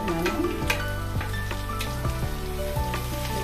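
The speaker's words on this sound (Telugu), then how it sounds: "ఇక్కడ టమాటోస్ కూడా మగ్గే వరకు ఫ్రై చేసుకుందాం." Two chopped tomatoes frying with browned onions in a pan for brinjal masala curry, a continuous close sizzle with spatula clinks and scrapes, backed by steady background music.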